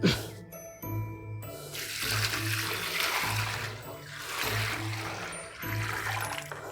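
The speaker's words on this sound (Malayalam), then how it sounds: "കലക്കി ഇതിലേക്ക് ഒഴിക്കുന്നു" Liquid pours and splashes into a container in a steady stream while making jeevamrutham fertilizer with cow dung, with faint tinkling and a repeating low churn beneath.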